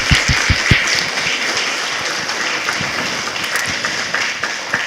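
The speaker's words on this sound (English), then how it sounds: "Can we give them a round of applause, please?" Audience at a fall STEM showcase for schools breaks into sustained applause, a dense wash of many hands clapping in a room, with a few sharp nearby claps standing out at the start.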